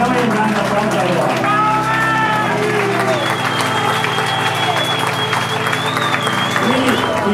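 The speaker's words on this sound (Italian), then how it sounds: "facciamo il grande applauso a loro" Steady applause from a crowd at a mountain bike event fills the whole stretch, with voices and cheering mixed in and some tonal sounds rising over it partway through.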